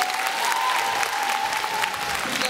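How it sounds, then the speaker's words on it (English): Audience applause after a dancehall show, a steady dense wash of many hands clapping close by and loud throughout, with faint crowd voices and a thin tonal whistle or cheer running underneath. "Applaudissements"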